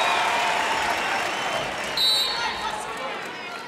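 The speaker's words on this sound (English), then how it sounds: "This crowd trying to push their team." A crowd at a Penn State vs Nebraska volleyball match cheers and roars continuously, with a sharp whistle-like tone briefly cutting through near the middle.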